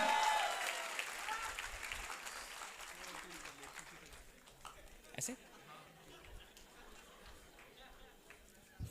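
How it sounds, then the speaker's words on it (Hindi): Audience applause for Ashneer Grover, of Shark Tank India, at a hosted interview event, loud at first and thinning out over several seconds into scattered claps and murmuring. "Can we have a huge round of applause for him?"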